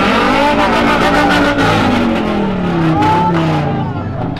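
A car fitted with three exhaust pipes revs loudly and close by, its engine note rising and falling in repeated throaty surges, with voices talking over it.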